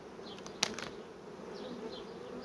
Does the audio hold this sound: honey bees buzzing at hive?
yes